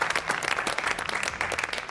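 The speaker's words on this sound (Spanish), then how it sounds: "Un aplauso para Luisa" A brief burst of audience applause, many hands clapping rapidly together, with faint crowd noise.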